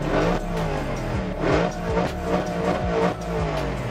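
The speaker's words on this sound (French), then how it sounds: "on va appuyer sur le petit bouton ici, Start Engine Stop, et vous allez voir, je vous parlais des pots d'échappement et je vous ai pas menti." Naturally aspirated Audi RS5 V8 fires up and revs hard through its exhaust, a loud, close series of rising and falling blips with sharp pops between them, no talking.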